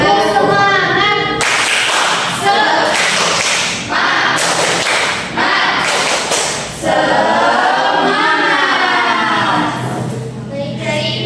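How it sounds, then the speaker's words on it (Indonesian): A school class performs 'tepuk semangat', a patterned rhythmic clapping chant, with loud bursts of group claps in quick sequences, pauses between phrases, and voices chanting along. "Sebelum mulai pembelajaran kita tepuk semangat dulu yuk."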